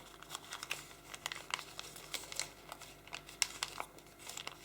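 Soft, close crinkling and creasing of a paper sheet as an origami grizzly bear model is folded flat in half, a quiet string of small crisp crackles.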